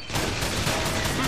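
Dense, continuous gunfire from the Call of Juarez: The Cartel video game, a steady loud wash of overlapping shots filling the whole short stretch without a break.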